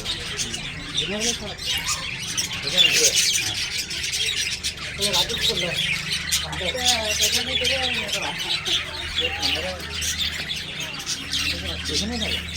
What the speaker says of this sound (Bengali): কি সুন্দর পাখিগুলো আছে।